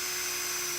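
A Trend Snappy countersink drill bit spins in a drill, giving a brief, steady, high-pitched whine heard up close with no talking.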